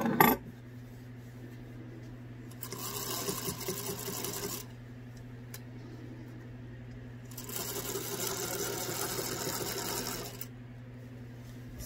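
A sewing machine stitches a lavender off-the-shoulder dress in two sustained runs of steady whirring, with a low motor hum beneath and quiet pauses between.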